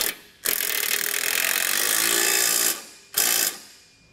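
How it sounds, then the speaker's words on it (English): Power ratchet with a 9/16 socket running down a bolt while installing a Blue Ox base plate on a 2019 Ford Fiesta, a loud whirring burst of over two seconds followed by a shorter second burst. "we're just gonna run it down with the 9/16 socket"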